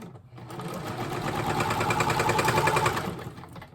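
Close and loud, a sewing machine stitches a paper pieced cat ornament in one continuous run, its rapid mechanical chatter building slightly and then easing off near the end.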